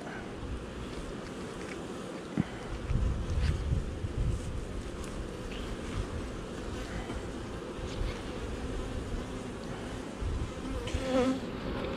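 A swarm of honeybees hums around the hive in a dense, continuous buzz, with a few individual bees droning close to the microphone over light wind noise.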